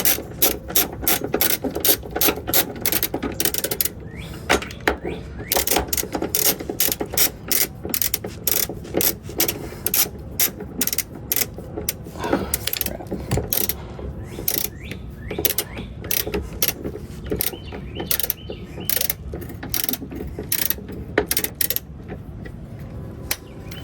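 A hand ratchet tightening suspension bolts on a Pontiac GTO during a suspension build: rapid, loud, close clicking runs that pause briefly and resume, with almost no talk.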